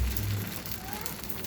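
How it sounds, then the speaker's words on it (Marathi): A beetroot uttapam cooks on an oiled dosa griddle with a soft, even sizzle and light crackle, close and fairly quiet, for a brief moment. "आता मी याला डोश्याच्या तव्याला थोडं तेल लावून घेतलं"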